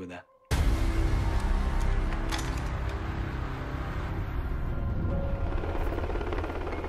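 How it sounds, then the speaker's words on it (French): Black Hawk helicopters of the 160th Special Operations regiment lift off from Jalalabad air base at night, a loud, steady rotor and engine rumble that starts abruptly and holds through to the end. "Les hélicoptères du 160e régiment des opérations spéciales quittent la base aérienne de Jalalabad à 22 h."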